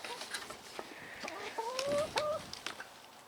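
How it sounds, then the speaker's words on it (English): Hens on an allotment plot in bad weather cluck and murmur close by, several short calls and a rising squawk over outdoor background noise. "These chickens are tough as anything."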